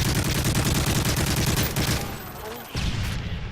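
Rapid, loud bursts of gunfire fill a capture-the-flag match in a multiplayer shooter, a sustained close fusillade that thins briefly before resuming, with players talking over it.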